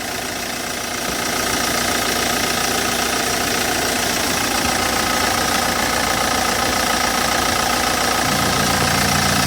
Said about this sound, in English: Here we go, here's the engine.